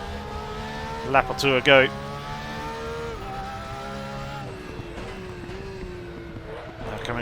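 A race car engine drones steadily on track, with a few sharp revving surges early on, while someone talks over it throughout.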